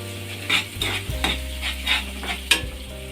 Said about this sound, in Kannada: ಈಗ ಒಂದು 5 ಸೆಕೆಂಡ್ಗಳ ಕಾಲ ಫ್ರೈ ಆಗಿದೆ ಶುಂಠಿ ಎಲ್ಲ.